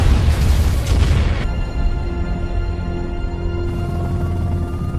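A car explodes in a movie scene: a loud, deep boom bursts at the start, then fades into a low rumbling aftermath with a steady tonal hum.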